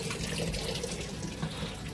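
Water rushes steadily into a washing machine as it fills, a continuous hissing, splashing flow at close range with no speech.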